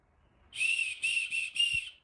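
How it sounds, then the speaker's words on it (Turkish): A shrill whistle blown in four quick blasts, close and loud, the first one longest, with short gaps between them. "Ne düdük var."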